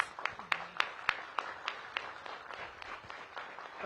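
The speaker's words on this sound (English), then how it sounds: "Give them a big round of applause" An audience at a mayoral event at a D.C. public library claps, a scattering of sharp individual claps standing out over a softer, thinner bed of applause that fades slightly toward the end.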